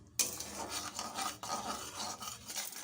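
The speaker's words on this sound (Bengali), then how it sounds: "মশলাটা কষে নিচ্ছি।" A spoon scrapes and stirs spice paste frying in a pan for paneer korma. The rasping is steady and close, with a soft sizzle beneath, and there is no talk.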